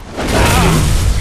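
A bomb explosion in a Halo Reach Griffball match, a loud, close, muffled boom that swells and holds with a low rumble and a whooshing tail.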